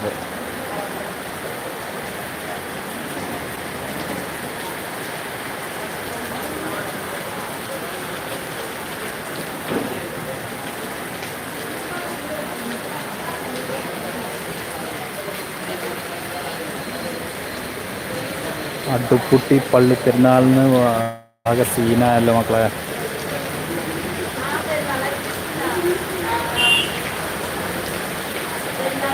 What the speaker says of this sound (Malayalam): അതിഗംഭീര മഴയാണ് ഇവിടെ പെയ്തുകൊണ്ടിരിക്കുന്നത്